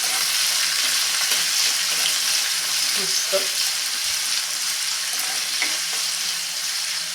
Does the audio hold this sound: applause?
no